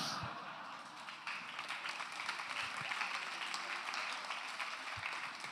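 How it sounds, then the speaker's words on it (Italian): A comedy show audience breaks into steady applause, dense clapping that holds at an even level throughout. "Hai visto come è partita l'applauso?"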